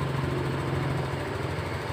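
A Honda Beat fuel-injected automatic scooter idles steadily at about 1600 rpm, a close, even engine hum with a low throbbing pulse and no talk.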